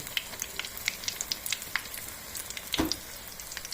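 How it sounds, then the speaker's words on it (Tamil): Potato balls fry in ration palm oil with a soft, steady sizzle, dotted with small crackles and pops and one louder spatter near the end. "இந்த உருளைக்கிழங்கு உருண்டை இங்கே வெந்துக்கிட்டு இருக்குது"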